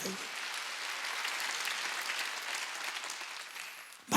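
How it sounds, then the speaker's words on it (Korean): Congregation clapping during a Sunday church service, a sustained even applause from many people in a large room, ending with a brief louder sound. "믿으면 박수 치라는 겁니다"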